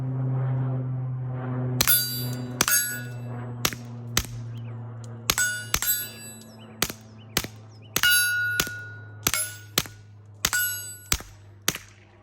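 Kel-Tec P17 pistol fired with a suppressor, a series of about a dozen sharp, clanging shots in an irregular rhythm, some spaced out and some in quick pairs, over a steady low background hum.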